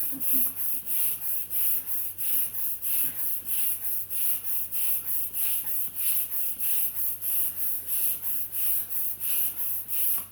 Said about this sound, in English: Trying to inflate this punch balloon with this pump.